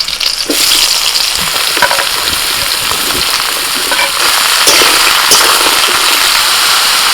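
Bottle gourd goes into hot oil tempered with nigella seeds, radhuni and slit green chillies, giving a loud, continuous crackling sizzle with scattered sharp pops and spatters throughout.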